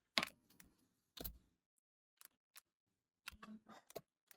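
Computer keyboard keys clatter in short, scattered clusters of taps with silent gaps between them, close and quiet.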